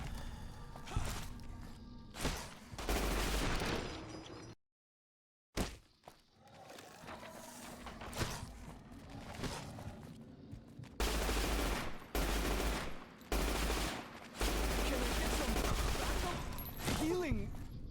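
Submachine gun fire in Fallout New Vegas comes as repeated loud, rapid bursts through the stretch, with a brief silent gap early on and denser volleys later over game sounds.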